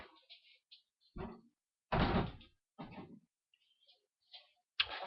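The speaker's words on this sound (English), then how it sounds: "Let me close the door real quick." An indoor door closes with a few distinct knocks and thuds, one heavier impact near the middle and a sharp clack at the end, close by with quiet gaps between.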